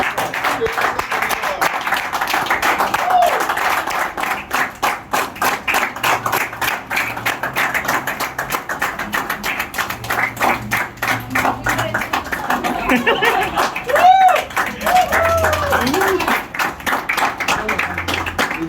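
A crowd claps and applauds at a family felicitation celebrating a couple's first car, with sustained, dense clapping throughout, loud and close, with voices mixed in underneath.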